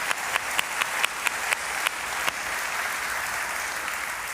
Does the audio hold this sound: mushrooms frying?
no